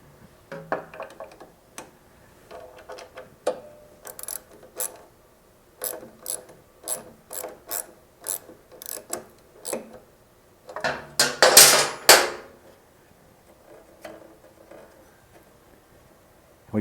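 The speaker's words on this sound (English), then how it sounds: "Now we're going to want to tighten the bolts up holding the chain tensioner in place." Ratchet wrench tightening the chain tensioner bolts on a Monster Moto MM-B80 mini bike, giving bursts of quick metallic clicks in a regular rhythm with a louder clattering stretch midway, close to the microphone.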